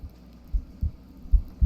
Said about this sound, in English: your heart starts to beat louder and louder